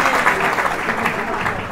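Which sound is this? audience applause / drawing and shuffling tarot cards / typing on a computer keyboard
audience applause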